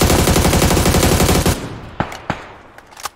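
Gunfire in a shooting video game starts with a loud, rapid automatic burst that cuts off sharply, then a few separate single shots crack out at intervals, quieter and more spaced.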